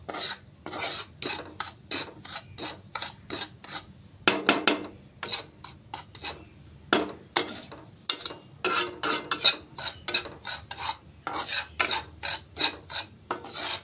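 Semolina (suji) is stirred and roasted in a pan, a spoon scraping across the metal in quick, irregular rasping strokes, close and crisp, with short pauses between bursts.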